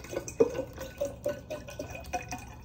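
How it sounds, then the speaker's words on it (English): Water runs into a water bottle in a short series of soft, irregular trickles and drips with small splashy bursts, fairly faint and close, with no talking. "I wanna fill up my water bottle with some water"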